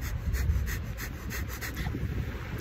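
Breath of fire: rapid, rhythmic pumped breathing through the nose, about four quick huffs per second, close to the microphone and steady, with no speech.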